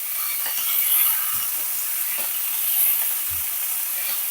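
Mint leaves fry with spices and green chillies in hot oil, giving a steady close sizzle with a few soft stirring knocks throughout.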